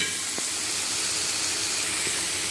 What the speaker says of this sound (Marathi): 2 टमाटे, एक लसणाचा गाठा आणि मधामध्ये टाकले करडीचं तेल आणि आता हे घेतो सगळं परतून.